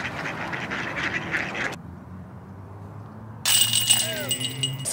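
Ducks gathered on a disc golf course in Fountain Hills quack in bursts, fairly close, with a person talking over the birds and the sound cutting in and out.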